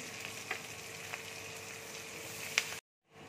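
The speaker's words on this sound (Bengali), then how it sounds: "দেখো পেঁয়াজটা কাজুটা ভাজা হয়ে গেছে।" Onion, cashews and green chilli frying in oil in a wok, a steady moderate sizzle with a few light clicks of stirring, the last one sharper, ending in a sudden cutoff.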